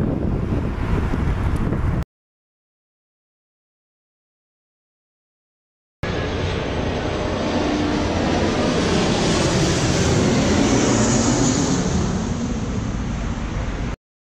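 An airplane taking off from the runway at Cordoba airport, a loud broad roar of engines and rushing air that builds and holds after a brief gap of silence, heard close and steady.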